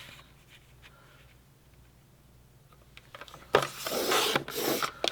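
A paper trimmer blade slices through cardstock in one quick, close rasping pass after a quiet pause, the scraping cut lasting a second or two.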